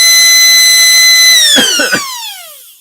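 A brushed DC motor in an RC car revs with a loud, high tonal whine that holds steady, then drops away in pitch as it spins down, with a couple of brief rough bursts near the end.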